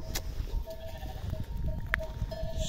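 Sheep bleat faintly at a distance while being driven out to hill pasture, a few scattered calls over a soft outdoor rumble with wind and shuffling.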